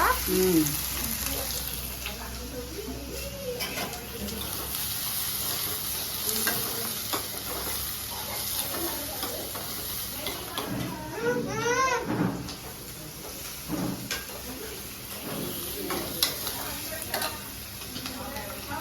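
Green chillies and onions frying in hot, smoking oil, a continuous sizzle with spatula scrapes, under a voice talking at times.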